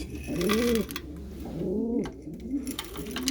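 Pigeons in a breeding loft give a run of deep, throaty coos, three or four rolling calls in close succession, near and clear over a low steady background hum.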